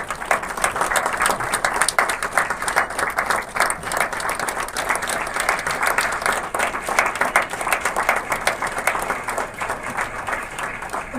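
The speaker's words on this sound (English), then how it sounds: "A huge round of applause to the entire team." Audience applauding at the inauguration of a brain and spine hospital clinic in Chennai, steady sustained clapping throughout with little talk.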